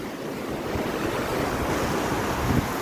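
A cold mountain stream in Pahalgam rushes over rounded stones, a dense, steady roar of flowing water heard close and loud without pause.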